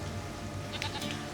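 A goat bleats once in The Witcher 3 Wild Hunt, a short nasal call rising over a low, steady game ambience near the end of the moment.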